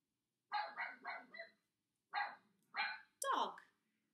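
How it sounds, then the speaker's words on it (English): A dog barks in a quick run of four close barks, then pauses before two more barks and a higher yelping bark, loud and near against silence. "Dog."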